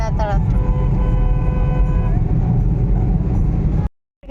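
A toy or car horn honked by a small child, a steady sustained toot lasting several seconds over background chatter and vehicle noise, then cutting off abruptly.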